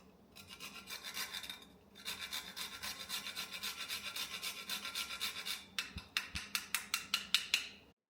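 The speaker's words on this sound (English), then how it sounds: "This is a nutmeg. And so I'm going to grate just a little bit" Whole nutmeg rasped on a grater for golden milk: steady close scraping strokes, a continuous run of rubbing passes followed by a quicker series of short distinct strokes near the end.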